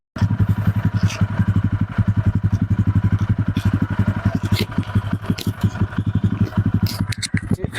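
A 2025 TVS Ronin motorcycle idles close by, its exhaust pulsing in a steady, even thump that runs for several seconds with a little mechanical clatter and no one speaking.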